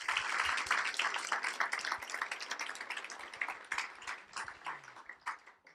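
Lecture-hall audience at a Wayne State event clapping for two alumni: dense applause starts loud and full, then thins into scattered individual claps as it fades over several seconds.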